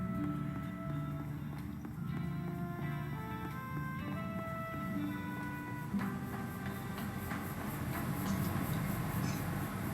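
Horse hooves clip-clopping in the video game Dead Rising 2, a steady trotting rhythm heard under game music and ambience at moderate loudness.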